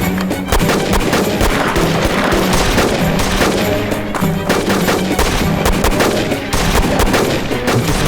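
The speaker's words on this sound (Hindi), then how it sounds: "उन्होंने हम पर गोलियां चलाना शुरू कर दी" Rapid bursts of gunfire crackle continuously, dense overlapping shots with occasional heavier bangs, loud and close.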